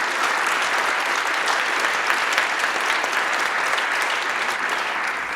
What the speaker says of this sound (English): A round of applause for Grace and Tom